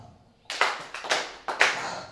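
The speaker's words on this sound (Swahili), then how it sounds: "Makofi matatu." A church congregation claps in three sharp, evenly spaced bursts, each a short, dense crack of many hands together, after a brief quiet pause.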